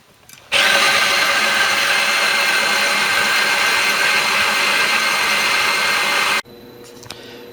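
An electric grinder whirs loudly and steadily for about six seconds as it grinds coriander seed for home-brewed beer, starting and cutting off abruptly.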